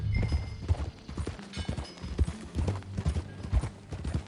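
Horse hooves clip-clopping in Red Dead Redemption 2, a close, uneven trot of hollow knocks with a brief whinny-like tone layered in, no talk over it.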